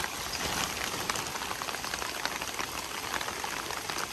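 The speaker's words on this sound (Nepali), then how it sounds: "पानी परिरहेको अवस्था कि" Rain falls steadily in a dense, even patter at moderate volume during rice planting in a muddy paddy, with no voices.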